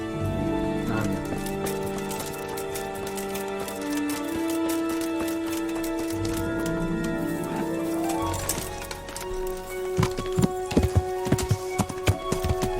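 Horse hooves clip-clopping in the medieval video game Kingdom Come: Deliverance, rhythmic hoof beats under layered game music and ambience, turning into sharper, louder clopping steps near the end.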